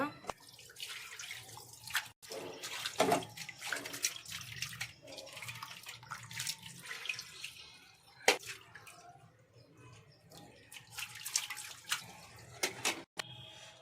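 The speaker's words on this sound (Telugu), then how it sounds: "ఈ రొయ్యల్లోకి అయితే వాటర్ వేసుకొని త్రీ ఫోర్ టైమ్స్ అయితే కడుక్కోవాలి శుభ్రంగా" Water sloshes and splashes in a bowl as prawns are rinsed by hand, with drips and occasional clatter and a faint voice now and then.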